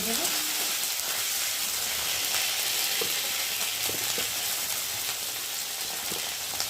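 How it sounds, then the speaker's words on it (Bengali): Ginger and cumin paste with slit green chillies sizzles and fries loudly and continuously in a hot pan. Faint scrapes of stirring sit under the constant crackle. "এই মশলাটা একটু হালকা করে নেড়ে দেবো"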